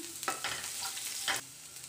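Steady oily sizzle of onions frying in a spoonful of oil in a pan, with a couple of brief louder crackles as they're stirred; no voices.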